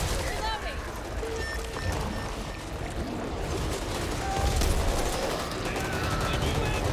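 Bursts of gunfire in the zombie shooter Back 4 Blood crackle over a busy, chaotic game soundscape, with voices talking throughout.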